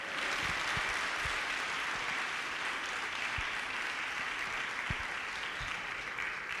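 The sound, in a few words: audience applause at a workshop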